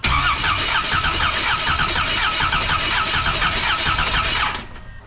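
An LS1-engined VN Commodore holds a loud, high rev around 7,000 rpm with a rapid pulsing buzz, then cuts off abruptly near the end, close by.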